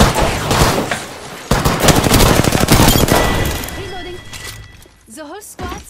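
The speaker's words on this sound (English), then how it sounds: "Getting shot at." Heavy gunfire erupts in an Apex Legends ranked match, rapid automatic bursts with dense cracks for several seconds, then fading under short in-game voice callouts and whooshing ability sounds near the end.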